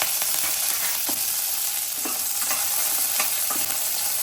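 Mustard seeds, urad dal, dried red chili, ginger, green chili and curry leaves sizzling in hot oil, a steady close crackling fry with scattered pops and light stirring.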